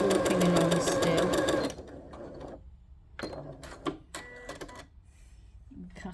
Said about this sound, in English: a normal foot, normal stitch, just a straight stitch. You can see how that's walking along still.